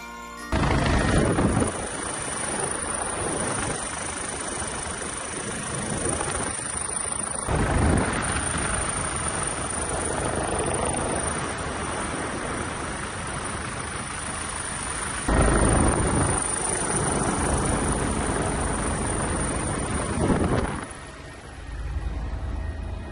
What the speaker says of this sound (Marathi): शिवाजी महाराजांच्या पुतळ्यावर हेलिकॉप्टरमधून पुष्पवृष्टी केली आहे